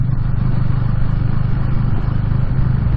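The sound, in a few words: single-cylinder motorcycle engine chugging at low revs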